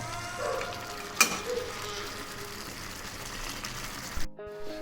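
Mutton and tomato sizzling in a karahi over a high flame while being stirred, a soft steady frying hiss with a sharp clink of a utensil partway through, then a brief pause near the end.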